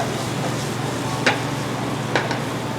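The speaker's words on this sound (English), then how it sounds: "Do a nice little saute of squash." Squash sautéing in oil in a pan makes a steady, soft sizzling hiss, broken by two brief clicks of stirring.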